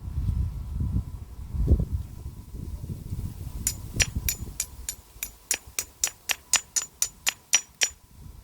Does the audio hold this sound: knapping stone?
yes